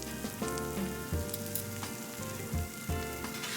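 A peanut butter and jelly sandwich sizzles in a hot pan, giving a steady close crackle and hiss with occasional louder pops and spits, and no talking.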